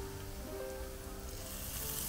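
Cauliflower-leaf fritters frying in hot oil give a steady, close sizzle with a continuous crackling hiss and no voices.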